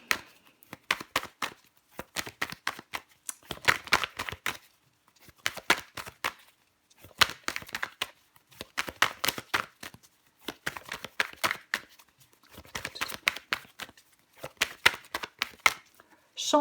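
Tarot cards handled on a table, repeated bursts of shuffling and slapping in irregular clusters with short pauses between, close and crisp, with no talk over them.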